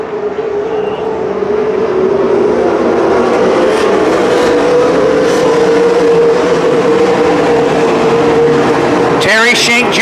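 Wingless sprint cars race at Calistoga Speedway, a steady, loud engine roar rolling continuously as the field circles the track, with a voice faintly over it and a sharp change near the end.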